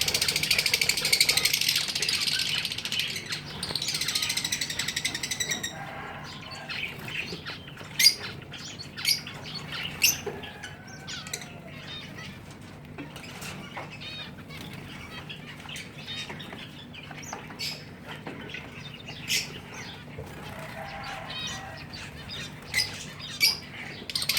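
Many small caged birds chirp and squawk nearby in quick, overlapping bursts, with brief wing flutters and rustling among them.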